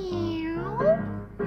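A cat meows in one long, wavering call, then starts another at the end; close and clear, with no talk.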